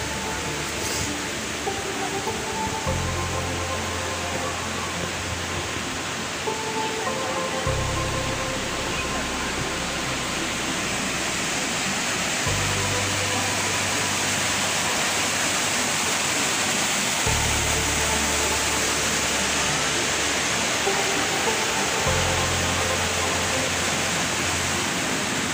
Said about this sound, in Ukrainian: Тут у нас це один з найбільших водоспадів.